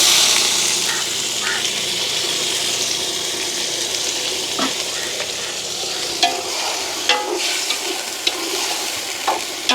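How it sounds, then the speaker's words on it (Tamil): Washed squid goes into a pan of frying onions and chillies, bringing a loud, steady sizzle with stirring and occasional clinks of a utensil against the pan, close up. "இப்போ நாங்கள் என்ன செய்ய போகிறோம்னா கழுவி வச்சிருக்கிற கணவாயை சேர்த்துக்கொள்வோம்."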